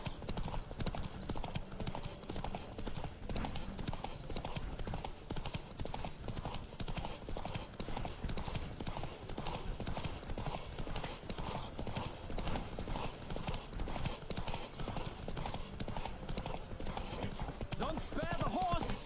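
Galloping horse hooves clip-clop in a fast, steady rhythm in The Witcher 3 video game, close and continuous throughout under faint game ambience, with an occasional whinny.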